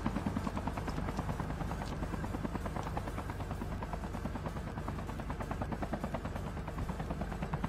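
A helicopter in the video game Call of Duty Mobile battle royale gives a loud, fast, steady rotor thumping throughout, with a constant engine drone beneath the chop.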